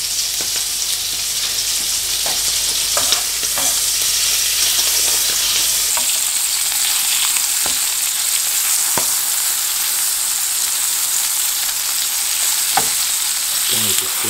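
Pheasant fillets fry in a pan with a bright, continuous sizzle close to the microphone, punctuated by occasional sharp taps and clicks from utensils.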